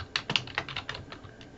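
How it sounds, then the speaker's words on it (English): Computer keyboard keys tapped while a footnote is typed: a quick, uneven run of about eight light, close clicks over less than two seconds, with no voices. "I'm typing in the first footnote."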